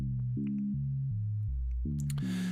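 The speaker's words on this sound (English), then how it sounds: "It has an LFO that's giving you that whoa, that rising wave sound." A sine wave oscillator in the Drambo groovebox on iOS, shaped by an LFO, plays a sequence of clean, stepped tones that shift pitch every fraction of a second, ending in a brighter noisy burst.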